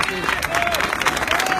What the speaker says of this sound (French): j'aimerais qu'on applaudisse les gendarmes qui assurent notre service d'ordre